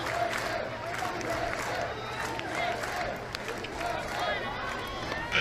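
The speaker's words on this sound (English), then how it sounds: "As USA chants ring through the crowd" Crowd at a women's international softball game between USA and Japan, voices chanting and cheering steadily across the stands with scattered claps, dense and continuous without a break.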